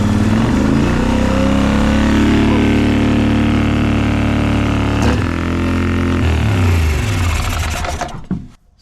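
A Polaris Sportsman 850 ATV engine idles loudly and close, a steady buzzing mechanical drone with slight wavering before cutting off near the end.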